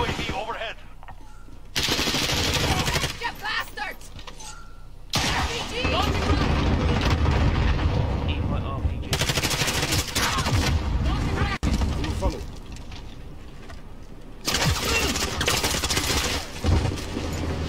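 Bursts of gunfire in a first-person shooter, loud stretches of rapid automatic shots broken by quieter pauses, with a player talking between and over the volleys.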